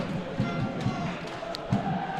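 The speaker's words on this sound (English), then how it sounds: "you hear the swell of the fans behind the goal" Football crowd of home fans massed behind the goal at a Stockport County home match, a steady distant roar with brief surges and swells, heard in open stadium air without close voices.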